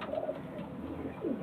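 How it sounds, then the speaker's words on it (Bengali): A female pigeon coos softly in a loft or coop, producing low, throaty rolling notes, with one cooing phrase near the start and another near the end, heard alone without talk. "এটা মাদা পায়রা"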